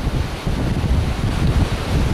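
Big sea waves break and surge at Fort Aguada beach in Goa, a loud continuous roar of surf mixed with heavy wind buffeting the microphone.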